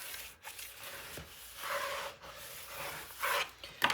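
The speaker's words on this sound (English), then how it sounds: "Now we can burnish." Paper being burnished while building a Graphic 45 Wonder of Oz 9 x 9 mini album, heard as soft close rubbing and scraping strokes that rise and fall over a few seconds with no talking.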